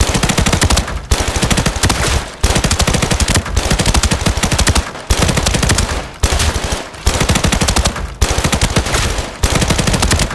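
AK-family SMG firing in Arena Breakout Infinite, loud repeated bursts of full-auto fire, about eight sustained strings separated by brief pauses, close and dry with no voices.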